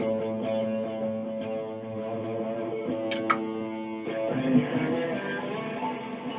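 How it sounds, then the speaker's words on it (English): A distorted electronic instrument note sustains with a harsh buzzing edge, shifting and thickening partway through as the effect is pushed harder during a live composing session. "That sounds too distorted."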